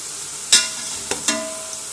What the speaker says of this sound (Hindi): 4 टेबल स्पून ऑयल के अंदर इस तरह से एक प्याज काट के आप डाल दें और प्याज को हम पकाएंगे